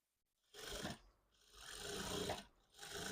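A sewing machine stitches a high-neck blouse in two close, steady whirring runs separated by a brief pause, with no voices.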